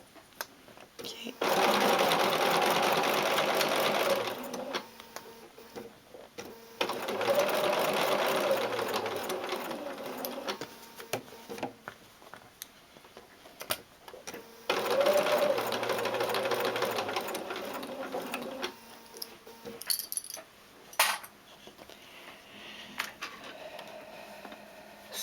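A sewing machine stitches a seam in a fabric mask in three long steady whirring runs separated by pauses, with someone talking quietly between bursts.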